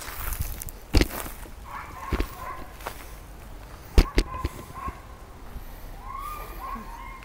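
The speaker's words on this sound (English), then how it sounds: "I don't know what that dog's barking at or barking about." A dog barks in a few sharp bursts with pauses between, then gives a thin, high whine, set against quiet outdoor background noise.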